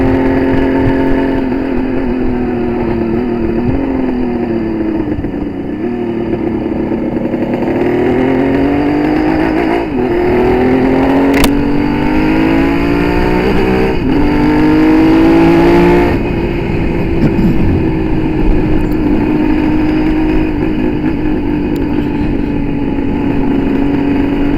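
A Kawasaki 750 H2C motorcycle on a road test, its engine loud and steady throughout, with pitch climbing and falling through repeated revs and gear changes as it accelerates along the road.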